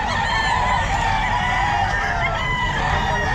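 A Golden Boy rooster at the Bocaue pet market crows loudly and close, and other fowl cluck and honk in a busy, noisy market around it.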